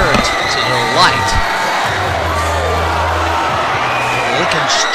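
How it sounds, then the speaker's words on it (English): Loud crowd at a live professional wrestling show in Rantoul cheers and shouts continuously in a dense, close wash, with whoops rising above the steady roar while a commentator talks over it. "Gosh, listen to the crowd!"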